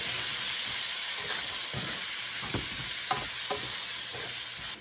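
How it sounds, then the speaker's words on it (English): Onions fry in a pan with a steady, close sizzle, broken by a few soft stirring scrapes and clinks. "the onions have been cooking for about 3 to 4 minutes"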